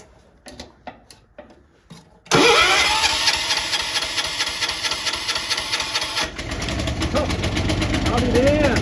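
A John Deere 210 lawn tractor engine cranks with a few sputtering turns, then catches and runs loud and close at a rough steady idle with the choke on, with speech before it starts.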